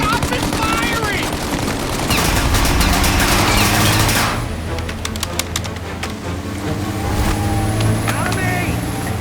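Rapid automatic gunfire rattles from an armored truck during a chase in the video game Mafia, dense bursts over engine roar with shouted voices between them.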